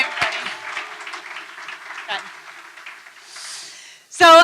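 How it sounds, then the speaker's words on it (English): Audience applause for a speaker at an Ignite Chicago talk event in November 2013, a fairly dense clapping that fades over a few seconds while voices talk over it, before a brief louder burst at the end. "Give another round of applause for Betsy."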